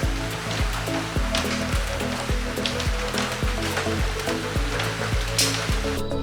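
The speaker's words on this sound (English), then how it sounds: "It's raining in the rainforest." Night rain falling steadily in the Monteverde rainforest in Costa Rica, a dense, continuous hiss of drops with a regular low repeating pulse running underneath throughout.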